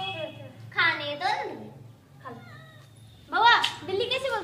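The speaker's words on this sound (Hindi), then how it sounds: "बिल्ली कैसे बोलती है?" A cat meows in a few drawn-out cries, a loud one early, a softer short one mid-way and a louder wavering pair at the end, close by in a quiet home.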